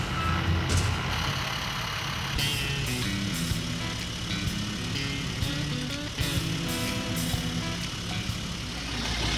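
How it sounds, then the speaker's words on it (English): A truck's rear wheel spins as it climbs out of a mud hole, the engine holding a loud, steady drone with slight rises in pitch throughout. "See how I handle these gears causing the rear wheel to spin?"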